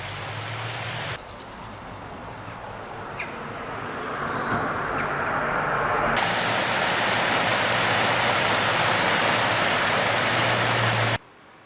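Water rushes steadily over a weir on the River Lathkill beside an old corn mill, a continuous broad hiss that swells louder partway through and then cuts off abruptly near the end, with no voices.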